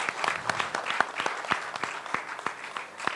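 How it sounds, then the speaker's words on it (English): Participants at the UNICOM WCNGT 2013 event get a round of applause, a steady patter of clapping from a modest crowd, moderately loud and continuous for a few seconds. "So give them all a big round of applause for taking part in this, please."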